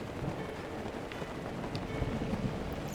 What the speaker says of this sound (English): Well, it's raining right now,